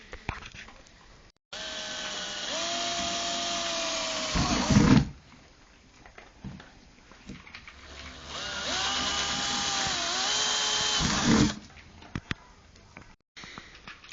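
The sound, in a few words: battery drill drilling holes in plastic bin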